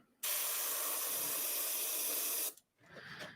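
A continuous hiss of spray paint coating an RC10T6.1 RC truck body, starting abruptly and running steadily for about two seconds, then cutting off before a softer, shorter spray.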